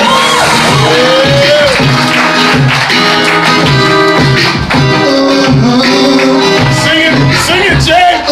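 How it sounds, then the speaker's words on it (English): A live audience at an open-mic night at a Red Lobster in Harlem claps, whoops and cheers for comedian J.P. Justice, a loud, dense crowd roar that holds steady throughout. "Make some noise, start clapping your hands for J.P."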